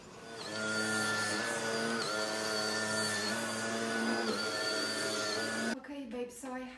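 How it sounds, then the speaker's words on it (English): A Dyson V11 Absolute Extra cordless vacuum runs on a carpet with a loud, steady high-pitched whine and motor hum that shifts slightly as it moves. It cuts out near the end, followed by brief clatter. "it's so intensive sucking power"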